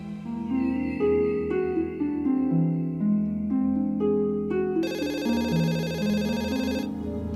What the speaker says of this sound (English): business phone started to ring straight away